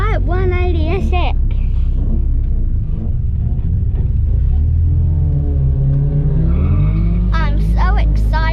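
White Nissan 180SX at a drag racing track, a loud roaring engine with deep low rumble throughout, rising revs and tire squeal near the start and end, close to the microphone.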